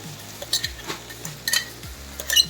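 Coconut, garlic and chili paste stirred into a frying curry, a few soft scraping clinks and faint sizzle bursts spaced across the moment, close and fairly quiet with no talking.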